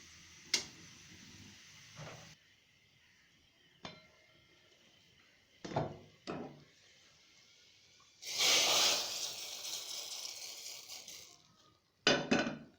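Hot ghee and garlic tempering poured onto dal, a sharp burst of crackling sizzle that flares up loudly, then fades out, set among scattered clinks and taps of utensils and pans in a quiet kitchen.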